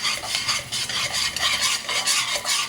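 Chopped onion and cumin sauté in a hot pan, a steady close sizzle layered with continuous stirring scrapes.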